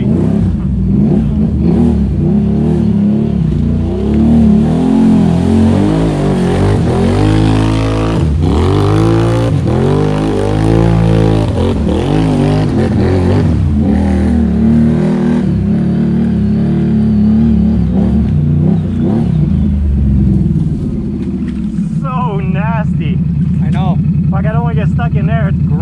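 An off-road vehicle warming up for a mud run drives along a bumpy trail, its engine loud and close with rising and falling revs, while someone talks over it.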